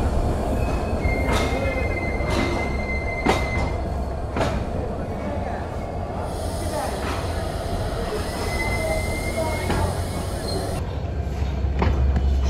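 The intercity up Simanta Express departs Santahar railway junction at night, with a continuous rumble of wheels on track, sharp squeals and clanks, and rhythmic clatter as it gathers pace, loud and close throughout with no speech.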